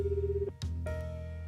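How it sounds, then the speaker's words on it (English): A mobile phone call is placed from a clinic side entrance: a short electronic tone, a brief click, then a steady connecting tone that holds to the end, close and clear with no talking. "Then I pulled my phone out of my coat pocket and called Sakaki"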